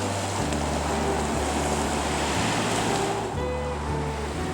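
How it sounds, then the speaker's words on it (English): Ocean surf rolls onto the shore at Molokai, Hawaii, a continuous loud wash of breaking waves with faint wind noise and no talking. "One more night of sleeping with the waves."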